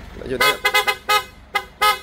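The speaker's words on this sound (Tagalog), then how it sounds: "So test mo natin yung horn" An aftermarket PIAA car horn sounds close and loud in five short blasts of uneven length, the first three in quick succession and the last two spaced further apart, with faint low sound just before the first blast.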